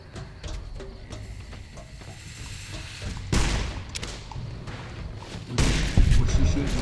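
Companion's gunfire in Fallout: New Vegas, a series of dull thumping shots with two heavier bursts, medium-close over game ambience and some talk.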